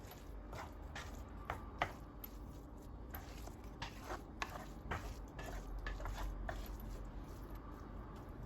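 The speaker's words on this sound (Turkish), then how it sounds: "Evet, pilavımızı karıştıralım." Rice pilaf is stirred in a hot pot with a utensil, giving soft, irregular scraping and squishing clicks that repeat steadily. The sound is quiet and close, with no talking.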